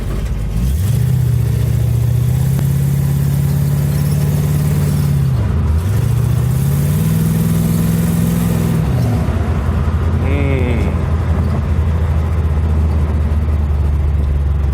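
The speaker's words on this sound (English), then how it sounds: "Take her on the main road real quick." A Chevrolet Nova's engine revs and pulls through gear changes on a test drive along a main road, with a loud, close, steady drone rising and dipping in pitch, then settling to a lower rumble near the end.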